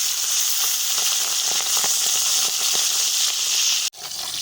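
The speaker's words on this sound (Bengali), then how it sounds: "মাছগুলোকে দিয়ে ভেজে নেব।" Hilsa fish rubbed with turmeric and salt fry in hot mustard oil, giving a loud, continuous close sizzle with faint crackles that dips abruptly near the end before resuming.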